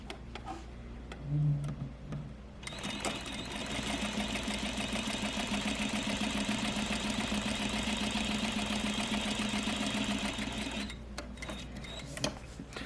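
Sewing machine stitching tight curves in fabric, a steady rapid mechanical whir running for several seconds, preceded and followed by quieter handling sounds, close and alone.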